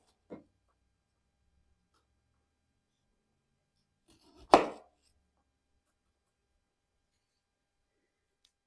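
A folding nCamp camp knife chops food: one faint knock near the start, then a single louder, sharp chop on the cutting board a few seconds later, with quiet between.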